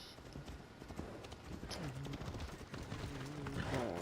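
Hooves clip-clop in a steady rhythm as a horse trots in the video game Assassin's Creed Odyssey, with voices murmuring underneath, moderately close.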